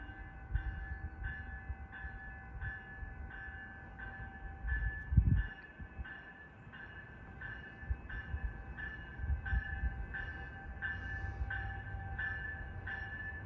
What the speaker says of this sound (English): Here comes the train arriving.